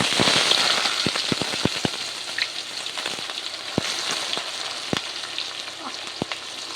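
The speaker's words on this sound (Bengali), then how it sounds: "চিনিটা ভালোভাবে ভাজা হয়ে গেছে এবার আমি দিয়ে দেব পেঁয়াজ কুচি" Chopped onions hit hot oil with caramelized sugar for a Bengali-style mutton curry, producing a loud, dense sizzle with sharp crackles and pops scattered throughout.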